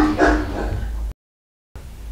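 A dog barks once, close and fairly loud, followed by a muffled tail, then a moment of dead silence before a low background resumes.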